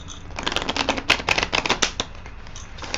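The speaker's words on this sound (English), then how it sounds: "I'm going to put one more rifle on these and one more shuffle." A deck of playing cards is riffle shuffled up close, a rapid fluttering flurry of clicks building and ending, with no speech.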